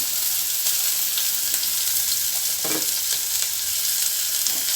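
Green chilli, chopped tomato and curry leaves fry in a pan of oil with a steady, dense sizzle for a hotel-style vadacurry. The hiss runs loud and close throughout, with a few brief pops and stirring scrapes and no talking.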